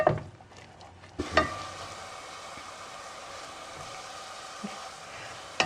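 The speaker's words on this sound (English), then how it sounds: "we'll give this a stir, and we're going to let this cook 2 to 3 minutes, just until it's soft" Onions softening in a pan on the stove, a steady, even sizzle held for several seconds after a brief stir and knock near the start, close and fairly quiet, no voices.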